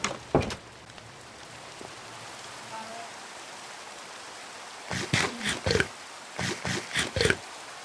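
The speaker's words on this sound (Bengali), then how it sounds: "বৃষ্টি পড়তেছে" Rain falling in the video game Minecraft, a steady soft patter running throughout, broken by a few sharp bursts at the start and a cluster of rhythmic bursts in the second half.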